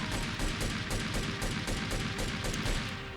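Rapid, steady gunfire from the old Grand Theft Auto III video game, loud and continuous with evenly spaced bursts throughout, like an automatic rifle firing without pause.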